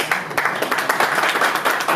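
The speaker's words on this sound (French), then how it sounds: "Applaudissez pour la dame." Applause and clapping from an audience at a political party general assembly, dense and steady throughout with bright percussive bursts, loud and fairly close.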